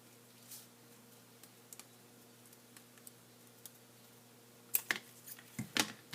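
Scissors cutting paper for a kirigami peach blossom, with faint soft snips and ticks scattered sparsely and then a few louder close cuts near the end, in a quiet room without talking.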